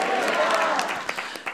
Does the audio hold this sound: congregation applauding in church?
yes